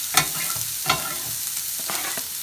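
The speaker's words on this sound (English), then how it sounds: "So I'm going to go ahead and put this in the skillet" Food crackles and sizzles in a hot skillet, a steady close hiss broken by a few sharp scraping knocks, with nobody speaking.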